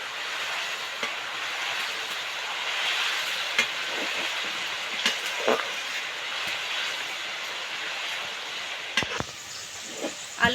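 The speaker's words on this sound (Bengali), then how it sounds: "তেলটা খুব ভালোভাবে গরম হয়ে গেছে, এখন আমি আলু দিয়ে দেব।" Grated potatoes for crispy jhuri aloo bhaja fry in hot oil, producing a soft continuous sizzle broken by occasional sharp crackles and pops.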